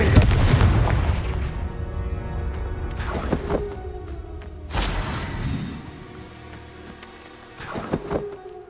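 Fire-spell explosions blast out in the Hogwarts Legacy video game, several loud booming bursts spaced a few seconds apart over a rumbling game soundscape.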